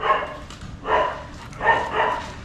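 A thin pet dog at a family home barks three times in evenly spaced bursts, each one short and fairly close, with no other sound around them.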